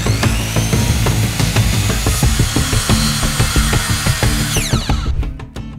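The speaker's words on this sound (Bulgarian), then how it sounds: "Първо ще го изрежа до необходимия размер." Power saw cutting 12 mm phenolic-coated plywood to size, a loud continuous whine with rasping grain noise throughout, cutting off just before the end as the blade spins down.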